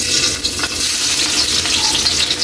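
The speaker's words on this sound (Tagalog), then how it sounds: "Kaili, mainit na yung mantika natin. Lagyan na natin yung bawang." Garlic hits hot cooking oil and sizzles, a loud, steady, close hiss that runs throughout with no talking.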